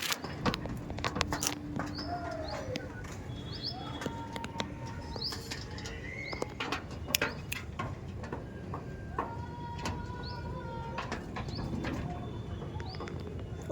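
Andhra pigeons flap their wings in sharp bursts and coo softly at a pigeon sale in Sodpur, with scattered bird chirps and clicks filling the background.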